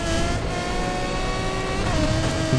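In the Need For Speed Payback racing game, several race cars hold a steady, loud, dense engine roar as they accelerate together off the start line, with the engine tones rising and layered on top of each other.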